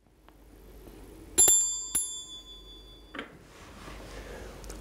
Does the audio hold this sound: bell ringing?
yes